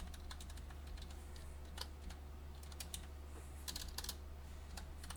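Quiet computer keyboard typing of Python code, a quick irregular patter of light key clicks in small bursts over a low steady hum, close and soft with no talking.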